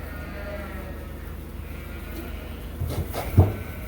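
Sheep and lambs bleating in a farm barn at feeding and weaning time, a low constant barn murmur with a couple of louder, nearer bleats toward the end.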